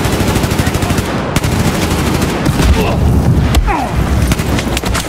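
Loud, rapid automatic gunfire and heavy booms fill a Battlefield 4 multiplayer Conquest match on Xbox One, steady bursts close by with sharp cracks standing out, while someone talks over the shooting.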